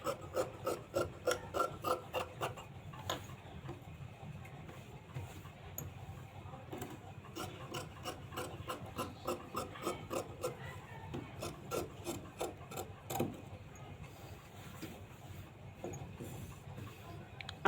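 Scissors cutting blouse fabric along cross markings, giving rhythmic bursts of crisp snipping and rasping strokes in quick runs with short pauses, close and clear.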